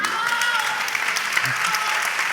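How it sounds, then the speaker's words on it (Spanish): A crowd at a festival awards ceremony applauds, a dense steady wash of clapping that lasts the whole moment at moderate distance. "Otro aplauso."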